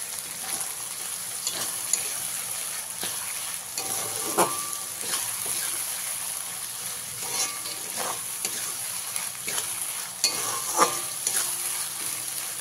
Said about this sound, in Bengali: গ্যাসের ফ্লেমটা হাই করে পেঁয়াজটাকে আমি খুব ভালো করে ভেজে নেব।